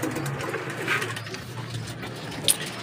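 Racing pigeons coming back to their loft during summer training in Kalaw, Laguna, with soft cooing and rustling over a steady low background hum and a brief sharp sound near the end.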